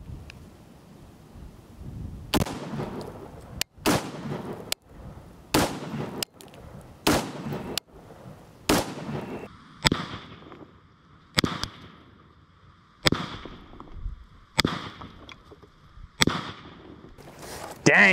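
Gunshots from a rifle firing 55 grain rounds into a top cinder block outdoors: a dozen or so sharp, loud reports spaced about a second apart, each with a short echoing tail, and a steady tone rings between the later shots.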